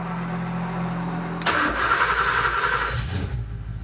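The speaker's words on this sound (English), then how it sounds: "let's give it the old start, test everything." A Porsche 928 Turbo engine cranks with a short starter whir, then catches and fires up into a loud, rough, steady running roar that holds to the end.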